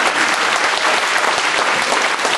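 A campaign rally crowd in Ivaylovgrad claps loudly and continuously, a dense, close wash of applause with no break.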